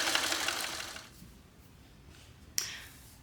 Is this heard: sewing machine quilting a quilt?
yes